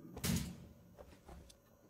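A door opening in a warzone video game, heard as a clear burst of mechanical clatter near the start, followed by a few fainter knocks and clicks with no talking.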